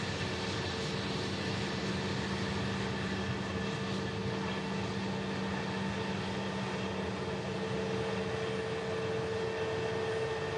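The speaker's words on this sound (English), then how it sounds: "An EasyJet from Paris, taxiing back in front of us." EasyJet Airbus A321 airliner taxiing at Manchester Airport, a steady broadband engine roar with a low hum holding evenly throughout, no talk.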